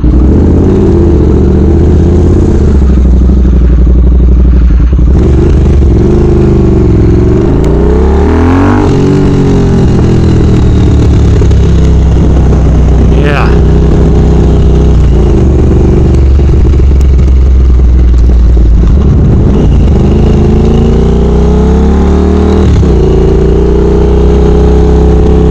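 A motorcycle fitted with new, smaller mufflers rides around a subdivision, its loud engine droning close throughout with several rises and falls in revs as it accelerates and slows.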